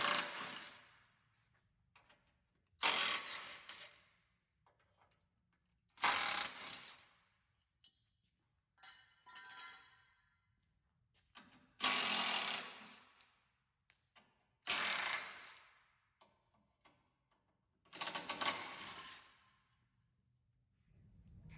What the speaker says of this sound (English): you're going to need a 14mm socket to remove those bolts